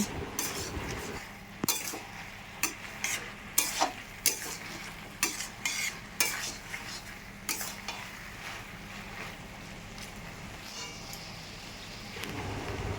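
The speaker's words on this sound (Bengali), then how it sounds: "সব কিছু ভালো করে মিশিয়ে নেব।" Taro leaves with prawns frying in a pan for a traditional Bengali dish, stirred with a utensil that scrapes and clinks against the pan in a steady rhythm over a soft sizzle, close and fairly quiet.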